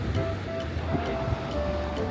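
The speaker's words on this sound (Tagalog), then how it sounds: "May alon na dito." Ocean surf at Doctors Point Beach, a steady broadband wash of waves with wind rumble. The roar stays continuous and moderately loud, with no talk.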